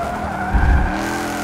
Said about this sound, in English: Do a little skid racing.